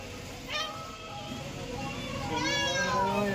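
A person imitates a cat meowing while walking near a temple on the road to Tuljapur, giving two drawn-out voiced meows amid outdoor background noise.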